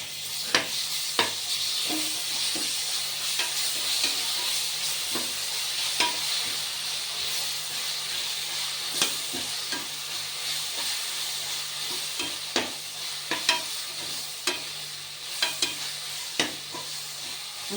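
Ginger and garlic fry in oil for paneer biryani, giving a continuous bright sizzle close to the pan, with frequent spoon scrapes and clicks against the metal as it is stirred over nearly eighteen seconds.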